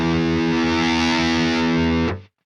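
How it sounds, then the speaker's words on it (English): A distorted guitar amp holds one sustained chord while its presence control is swept, brightening the tone before it cuts off abruptly at the end. "Pretty intense sweep on the presence control."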